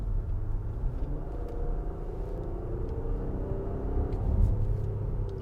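Steady low engine drone from a 2022 Infiniti QX60 crossover with a V6, heard from inside the cabin while driving, a continuous rumble with a slight swell near the end and no talking.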